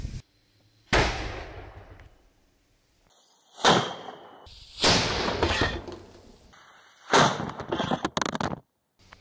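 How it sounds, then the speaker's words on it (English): A metal potato cannon fires potatoes downrange with a chemical propellant, giving four loud, sharp blasts with whooshing tails, spaced a few seconds apart, outdoors and close by. "using some classified materials for propulsion and firing a potato down there"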